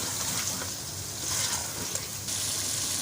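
Taro root and meat fry together in a pot with a steady, close sizzle and brief stirring scrapes, no voices over it.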